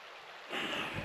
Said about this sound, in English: stream or creek, whatever you want to call it, that we made it to.